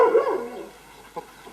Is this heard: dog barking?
yes